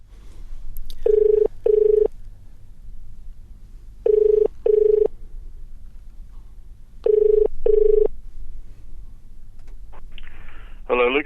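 A telephone rings in three evenly spaced pairs of electronic trills, separated by short gaps, with a brief burst of dialing tones at the end, all over a faint low hum.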